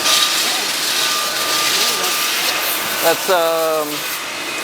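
A machining machine runs inside a motorcycle factory making throttle bodies, a continuous whirring hum under ambient factory noise, with a person speaking briefly near the end.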